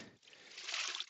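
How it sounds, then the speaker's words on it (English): A car wash mitt is dunked and swished in a bucket of ONR rinseless wash fitted with a grit guard, giving a soft, close trickling slosh of water for about a second. "So now I'm going to dunk this back into the thing, into the bucket. Rinse it around a bit."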